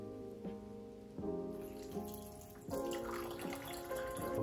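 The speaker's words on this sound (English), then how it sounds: "I have this cup with water to prime the filter." Water poured from a cup to prime the filter of a nano reef aquarium, a soft continuous splashing and trickling with a few gurgling surges, close and fairly quiet.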